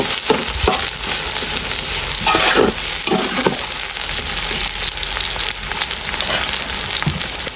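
Roughly 400 grams of chopped onions frying for a mutton curry, a steady broadband sizzle with scraping stirring strokes of a spoon against the pan, close and continuous throughout with no talking.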